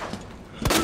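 A single sharp gunshot cracks out near the end, loud and close, in the video game Resident Evil 2 (2019), following a stretch of quiet background ambience.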